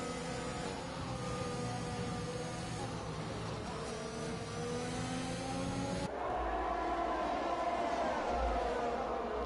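A racing car engine in a sim racing game at Britain winds down through downshifts, its whine stepping lower, then a fresh engine tone cuts in as the view changes, steady and moderately loud.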